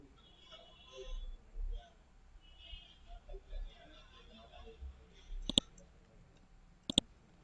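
Two crisp computer mouse clicks sound close and distinct near the end, after quiet muffled murmuring and low background noise.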